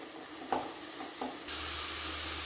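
Tomato and chana masala powder are stirred in a frying pan, with two quick spoon clinks followed by a soft, steady sizzle that keeps going to the end.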